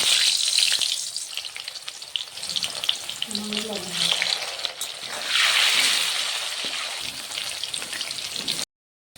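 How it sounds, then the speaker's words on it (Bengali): Potatoes fry in hot oil for a Bengali cabbage dish, giving a steady close sizzle with crackling spatter that swells midway and fades briefly before cutting off; no talking. "এবার আলুটা ভাজবো।"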